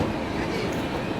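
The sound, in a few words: Rajdhani Express train running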